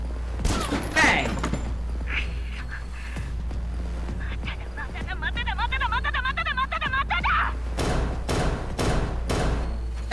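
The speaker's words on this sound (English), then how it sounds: "Gunfire drowns out Gaia's frustrated shouting." Rapid gunfire in an anime-style scene, a dense volley of sharp bangs tearing into a cardboard box after a rifle is assembled, with loud impacts mixed under voices and background music.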